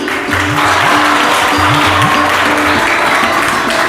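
Continuous crowd clapping at a gurukul school prize ceremony, even and fairly loud throughout, layered over a faint repeating tonal melody in the background.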